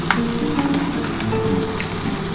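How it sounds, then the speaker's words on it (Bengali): Fish fat frying in a pan, giving a dense, continuous crackle with scattered sharp pops, close and fairly loud. "আর ফটফট করে ফাটছে কিন্তু আমার খুব ভয় লাগে মাটির তিল ভাজার টাইমে বড্ড ছেটকায়"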